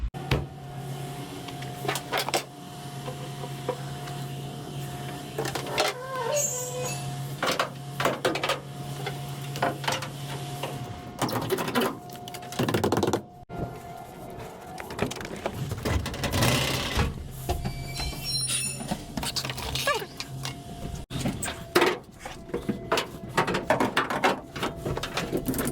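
Cargo being strapped down inside a cargo van: repeated ratchet clicks, strap rattles and clunks, with thumps and scrapes against the van's walls, irregular and close over a low hum, with no talking.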